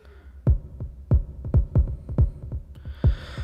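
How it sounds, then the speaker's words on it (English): A punchy electronic kick drum from the music game Incredibox Soulgem thumps repeatedly in a steady, slightly syncopated pattern, deep and close, with no voices over it. "Classic kick sound that repeats that same type of kick"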